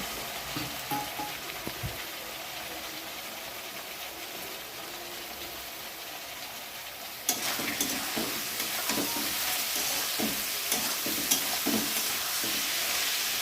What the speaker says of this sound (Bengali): জলটা ঝরিয়ে সয়াবিনগুলো দিয়ে দিলাম। দিয়ে আবার একটু ভালো করে ভাজা করে নেব